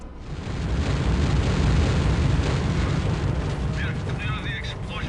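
Heavy, roaring explosion rumble from bombs detonating in Counter-Strike's cancelled single-player campaign video game, a sustained loud blast that fades slowly, with a short burst of game speech near the end.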